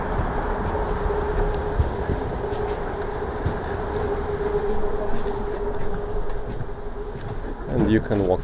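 A Moscow metro train runs with a continuous rumbling roar and a steady tonal whine, joined by intermittent rattles and clacks and a brief squeal near the end, heard from inside the carriage.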